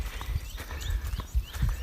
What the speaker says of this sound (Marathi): पळला आमचा बैल पळला काळा बैल आहे गेला